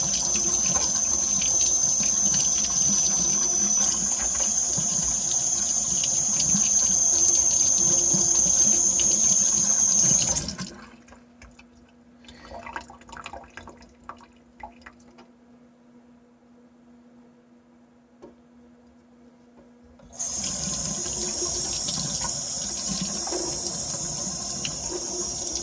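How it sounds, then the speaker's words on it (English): A sink faucet runs strongly while tomato seeds are rinsed in a strainer, a steady close rushing of water that stops for about ten seconds of quiet handling and then resumes. "and just rinse them off in the sink."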